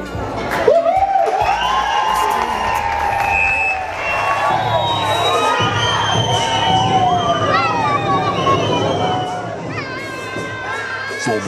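A crowd at a fifteenth birthday party cheers and shouts, with loud whoops and children's voices over a continuous roar, with voices heard throughout.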